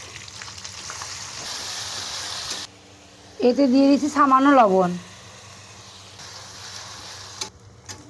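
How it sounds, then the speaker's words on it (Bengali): Onion, garlic and ginger paste fries in hot oil with a steady moderate sizzle, while someone talks briefly over it before the frying continues alone. "পেঁয়াজ রসুন আদা বাটাটা ভাজা হয়ে গেছে"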